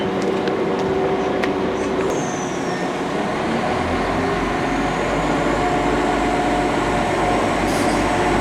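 A London rail train at a platform on the line through Leyton Midland Road, with a steady loud rumble of rolling wheels and carriages throughout, a faint high squeal of wheels and no talk.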